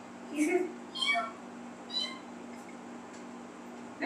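A person imitates a cat's small, baby-like meow, giving three or four short, high, thin mews spaced about a second apart against a low steady hum.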